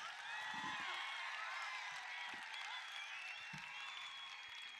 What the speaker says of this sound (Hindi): तालियां बजाओ जरा जोरदार।